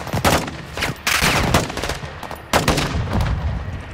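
Heavy automatic gunfire from a gun-run air strike in Call of Duty: Modern Warfare II, coming as loud, close bursts of rapid shots with short gaps between them.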